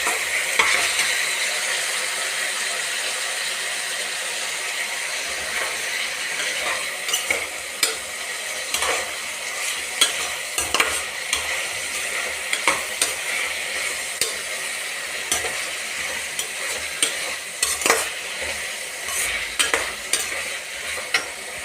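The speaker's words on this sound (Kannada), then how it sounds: "ಈಗ ನಾನು ಟೊಮೆಟೊನೂ ಸೇರಿಸ್ತಾ ಇದ್ದೀನಿ. ಇದನ್ನು ಸ್ವಲ್ಪ ಹುರ್ಕೊಳ್ಳೋಣ." Tomatoes stir-fried in a pan for bendekayi palya give a soft, even sizzle, broken by frequent clinks and scrapes of a spoon against the pan, close by and without speech.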